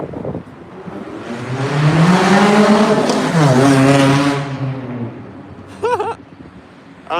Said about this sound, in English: I think that was just a base Lancer with a wing on it, ripping down the street